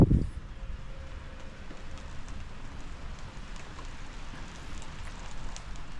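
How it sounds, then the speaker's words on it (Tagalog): Steady rain falls outdoors during a barbecue of marinated chicken in wet weather, a continuous close hiss with a brief louder knock at the start and no talking. "Pero kahit umuulan, magbabarbecue pa rin tayo mga guys."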